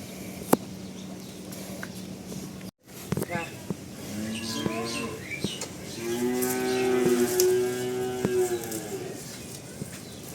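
A heifer on a farm lets out a long, loud moo in the second half, a steady drawn-out low call following quieter rustling and a brief dropout, with a few faint bird chirps nearby.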